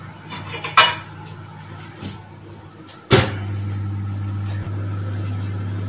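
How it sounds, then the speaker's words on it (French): A lid lifted off a hot pot at the oven while baking bread gives one sharp metallic clank, then a steady low hum carries on underneath, with a softer clink earlier and quiet kitchen clatter. "Et je vais simplement retirer le couvercle."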